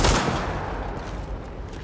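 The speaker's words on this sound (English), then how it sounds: "shoot the wall of the plant holder in front of you. Oh, this thing? With the shotgun?" A shotgun blast in the video game The Division tears into a plant holder, one sharp, loud report at the start followed by a dense crackling decay of debris.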